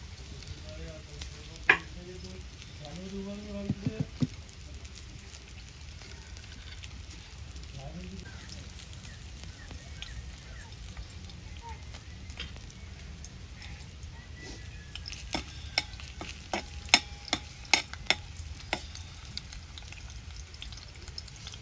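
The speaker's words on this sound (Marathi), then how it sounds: "जे 2 चमचे तेल गरम झालंय, त्याच्यामध्ये आपण ही ठेचून घेतलेली लसूण ऍड करूया।" Crushed garlic sizzles steadily in two spoonfuls of hot oil for a Marathi pomfret fry and curry, with faint stirring clicks and scrapes scattered throughout and a few brief voiced sounds near the start.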